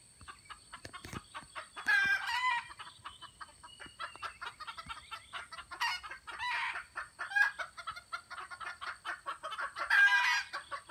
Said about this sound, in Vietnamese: Đấy, đây là con gà rừng nha.